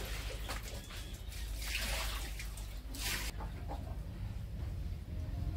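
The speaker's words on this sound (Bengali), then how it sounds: "এখন আমি এগুলোকে ধুয়ে কেটে নেব।" Taro (kochu) leaves are washed by hand in water in a home kitchen, with splashing and sloshing in bursts and chickens clucking faintly in the background.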